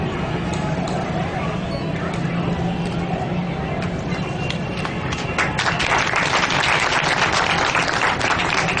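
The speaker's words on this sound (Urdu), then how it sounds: "تالیوں کی گونج میں استقبال کیجیے۔" Audience at a turban-tying welcome ceremony in Khanewal clapping for an arriving guest, dense applause rising in intensity partway through and continuing loudly to the end.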